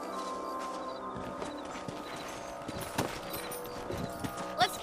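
Horse hooves clip-clop steadily in a Red Dead Redemption video game scene, a quiet, even walking rhythm over a soft ambient bed with a faint snort near the end.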